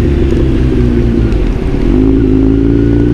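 Scooter engine running through a flooded, rainy street, a loud close drone with a steady hum that rises in pitch toward the end as it revs, heard alone.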